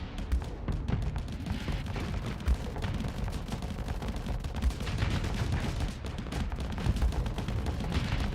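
Dense, continuous gunfire rattle from bullets striking a ship's shield during a space battle in the game Starsector, loud and steady throughout, with occasional heavier thumps.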